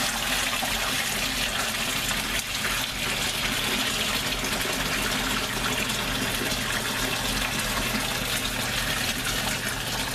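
Steady, loud rush of pouring water splashing continuously for the whole stretch as a pot of boiled sweet potatoes is drained into a sink.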